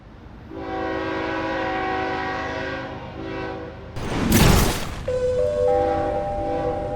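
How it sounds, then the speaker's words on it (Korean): A passenger train pulls into a station, its horn-like tones and rolling wheels holding steady before a loud burst of brake hiss and a chime-like signal near the end, with no talking. "승객 여러분, 우리 열차 두 번째역 즐거움의 무대역에 도착하였습니다"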